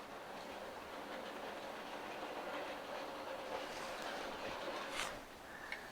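Bachmann N scale Pennsylvania Broadway Limited model train running around its track, a faint continuous rolling whir with light rhythmic clatter, ending in a brief sharper click near the end.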